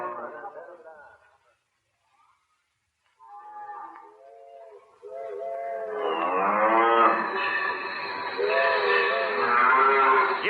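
A herd of cattle blocking a railway right of way lows and moos with long, drawn-out calls. The animals are near and grow louder and overlap into a continuous chorus, and a voice speaks briefly at the very start.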